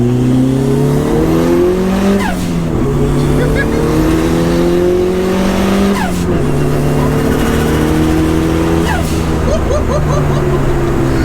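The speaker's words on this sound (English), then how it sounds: "Should we go for a little second gear pull maybe?" A hot hatch pulls hard in second gear from inside the cabin, engine note climbing loudly and steadily through the revs with brief shift dips, a continuous close, dense roar throughout.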